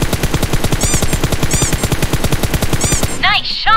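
Rapid automatic gunfire from a PUBG battle on the Vikendi map, loud and close, with tightly spaced shots rattling steadily for about three seconds before cutting off.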